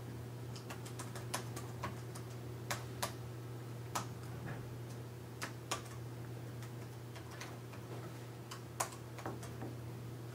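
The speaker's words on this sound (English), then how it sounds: "you'll have to type in your Predict ID" Computer keyboard typing while entering a login ID on an electronic form, heard as sparse, irregular clicks over a steady low hum.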